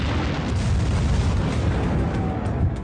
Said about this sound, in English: High-pressure air from the cabin bursts through the hole, weakening the bulkhead, causing it to fail explosively.